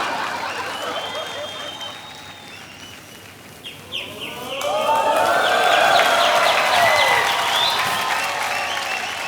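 A studio audience at a Hindi TV comedy show claps and cheers, with shrill whistles over the applause, which swells louder and fuller halfway through and stays sustained.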